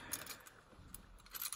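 A car key on a key ring jangles quietly in a few short bursts of metallic clinks, close and light, with quiet gaps between them.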